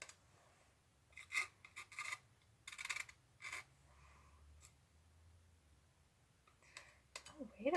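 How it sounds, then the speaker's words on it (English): Palette knife scraping paint on a painting surface, in short, close, rasping strokes separated by quiet pauses, soft overall. "So I did a little scraping action with that palette knife there"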